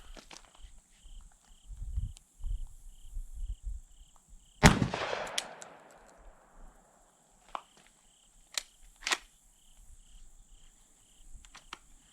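An AR-style .410 shotgun fires Federal birdshot outdoors, giving one sharp, loud report midway with a brief decaying tail, followed by a few fainter clicks, while crickets chirp steadily in the background.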